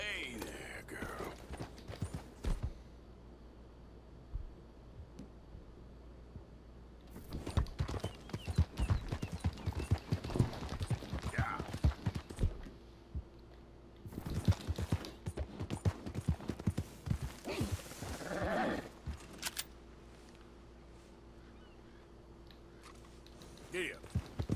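Horse hooves clip-clopping in the Red Dead Redemption 2 video game, steady bursts of hoofbeats at moderate loudness broken by quieter gaps, with someone talking over parts of it.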